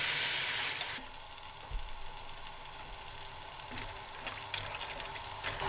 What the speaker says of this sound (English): Okay, water is boiling, yep.